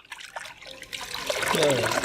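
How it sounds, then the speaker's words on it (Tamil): Water trickles and splashes while being poured over aloe vera to rinse it, starting with faint drips and building to a steady splashing stream, with a voice speaking over it. "தண்ணி ஊற்றுங்க"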